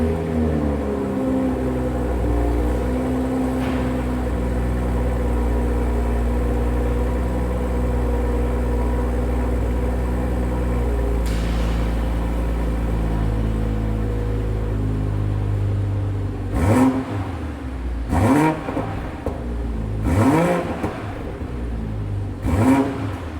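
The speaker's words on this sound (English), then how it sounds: "why don't we do an engine startup for you guys so you can hear what this thing sounds like" 2021 BMW M340i xDrive idling steadily with a smooth, close engine hum, then blipped through several sharp throttle revs that rise and fall near the end.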